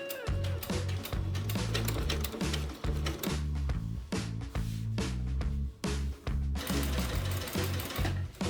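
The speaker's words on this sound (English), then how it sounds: "So I started off with sewing the front center seam and the back center seam." A sewing machine stitches denim seams on a jumpsuit in rapid rhythmic bursts, its close mechanical chatter pausing briefly between runs of stitching.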